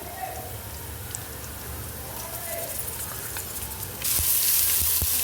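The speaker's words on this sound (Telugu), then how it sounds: "ఇప్పుడు 2 స్పూన్లు అల్లం వెల్లుల్లి పేస్ట్ వేసుకుందాం." Ginger garlic paste fries in a pan with mint and coriander for chicken biryani, a steady close sizzle that grows suddenly louder and brighter near the end, with a few light scraping taps.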